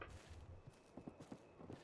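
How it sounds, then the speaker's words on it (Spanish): Horse hooves clip-clopping in the Western roleplay game RedM, a quick run of muffled hoof beats set against a dense background rumble. "he escuchado yo también un montón de caballos"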